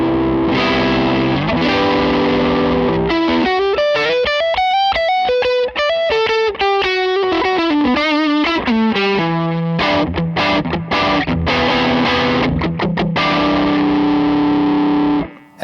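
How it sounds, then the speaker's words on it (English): An electric guitar plays through a dual-sided overdrive pedal set to distortion, with sustained chords and single-note melodic runs followed by choppy staccato chords, loud and alone. "we can go into our distortion setting"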